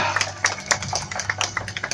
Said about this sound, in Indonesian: Mari kita sambut dengan tepuk tangan yang meriah